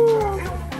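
Sled dogs at a dog-sledding outing in Mont Tremblant, Quebec give a loud, close burst of whining yips and barks that overlap, with a high tone sliding downward before rougher yelps continue.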